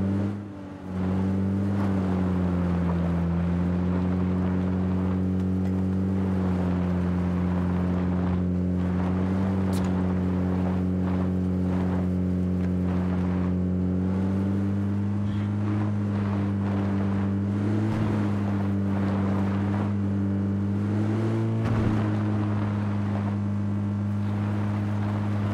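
A boat's engine runs steadily while approaching a lone cottage, a loud low droning hum with stable harmonics and brief pitch wobbles, continuous throughout with wind noise and no talk.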